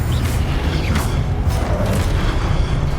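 Confringo blasting spell in the Hogwarts Legacy video game, a sustained rumbling explosion with a heavy low-end boom and crackling debris, loud and steady with no talk.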